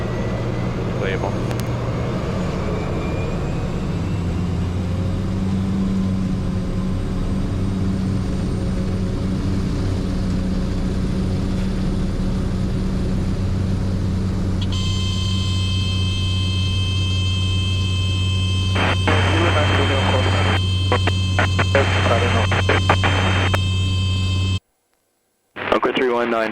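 A small plane carrying a lumber payload to a remote wilderness camp drones steadily in flight just after takeoff, a continuous close engine hum with radio chatter and cockpit voices over it.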